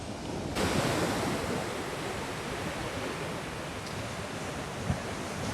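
Ocean surf breaking on a sandy beach, a steady broad roar of waves close by with a slight swell near the start and no voices.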